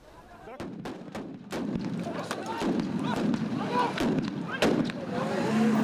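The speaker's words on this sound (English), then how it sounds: "They were met with stun grenades, rubber bullets, tear gas and water cannon fired by the police to disperse the crowds" Police fire stun grenades and rubber bullets at road-blocking protesters in Bonteheuwel on the Cape Flats, sharp loud bangs cracking out repeatedly over a crowd's noise, with a voice speaking over them.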